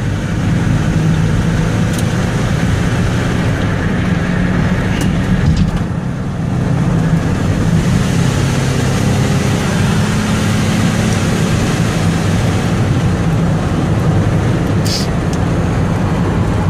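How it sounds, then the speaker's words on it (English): A Chevy Venture wheelchair-accessible van drives on the highway, its engine droning steadily beneath heavy road and wind noise throughout, with a brief dip partway through and no clear shift point standing out. "I'm going to give it some gas so you can hear it run out"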